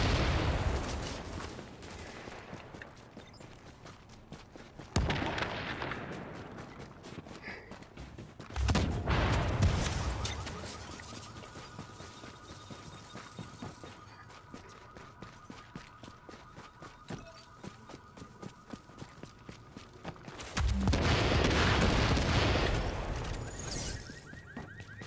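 Game gunfire in a combat scene, with dense bursts of shots and heavy loud volleys near the start and end, plus a sustained mechanical tone running through the middle.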